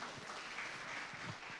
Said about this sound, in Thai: เสียงปรบมือเป็นกำลังใจให้น้องเยาวชนคนเก่งอีกครั้งหนึ่งค่ะ